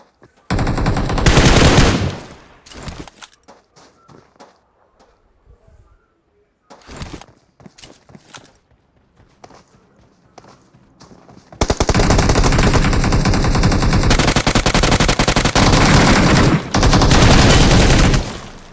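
Heavy automatic gunfire in a battle royale video game arrives as a dense burst near the start. Scattered softer shots follow, then a long, loud, sustained barrage fills the final seconds, with no talking.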